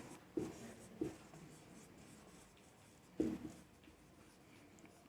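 A pen writes an accounting entry by hand on paper, giving faint, close scratching strokes in a few short bursts against a quiet room.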